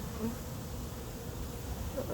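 A dense swarm of bees hums steadily all around, a thick, continuous buzz filling the air with no voices.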